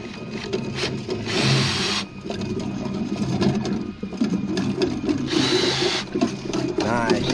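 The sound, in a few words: drain cleaning cable spinning through a catch basin line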